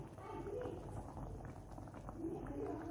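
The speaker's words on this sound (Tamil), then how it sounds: "இது வந்து நல்லா கொதித்து இந்த பச்சை வாசம் போனதுக்கப்புறம் இறக்கிடலாம்" Tomato sambar simmering in a pot gives a soft, steady bubbling, low and quiet throughout, while a voice talks over it.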